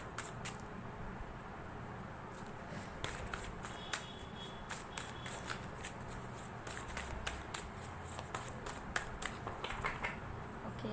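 Tarot cards are shuffled by hand in a quiet room, giving a series of soft, crisp riffles and flicks spaced irregularly over the whole stretch.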